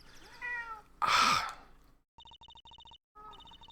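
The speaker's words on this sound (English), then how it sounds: "So you might hear a cat meowing." A house cat at the base of a chair gives a drawn-out meow, followed by a breathy sigh-like sound, then a rapid series of electronic beeps and a short high chirp near the end, all fairly close and quiet.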